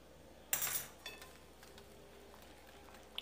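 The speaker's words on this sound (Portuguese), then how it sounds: "Agora eu vou colocar meia colherzinha de chá de sal." A teaspoon knocks against a bowl while adding salt to pizza dough: one sharp metallic clink followed by a softer second tap, quiet and close in a still kitchen.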